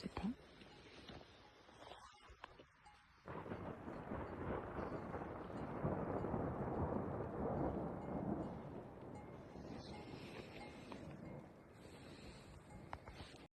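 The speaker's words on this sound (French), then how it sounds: "il y avait un orage qui nous arrivait dessus" A thunderstorm moving in during a couple's trip: a broad, sustained roar of rain and wind swells in after a brief quiet lull, rumbling steadily for the rest of the stretch.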